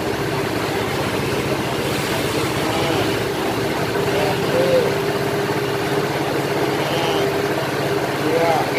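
A Yamaha Mio Soul automatic scooter with a new carburetor runs steadily at idle, a continuous low engine drone throughout, with people talking over it.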